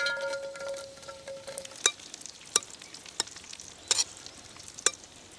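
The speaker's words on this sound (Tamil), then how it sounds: "திராட்சை வறுத்து எடுத்துக்கலாம்." Cashews and raisins fry in ghee for Pongal in an outdoor village kitchen, with a steady soft sizzle and sharp metallic stirring clinks at irregular intervals, close by and with no talking.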